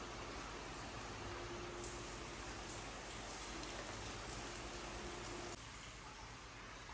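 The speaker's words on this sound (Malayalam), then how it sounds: "ഇപ്പം മഴ ഒരിത്തിരി കുറഞ്ഞ സമയമാണേ." Steady rain falls outdoors as a dense, even wash of noise with no distinct drops, fairly faint, easing slightly near the end, with no voices.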